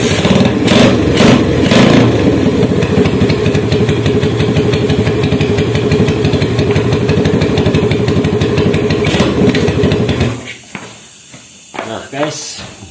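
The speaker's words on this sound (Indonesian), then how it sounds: "Nah guys, motor masih hidup ya guys." Motorcycle engine running after a spark plug repair, idling loudly and close with a steady throbbing hum, then cutting off abruptly near the end, leaving quieter handling noises.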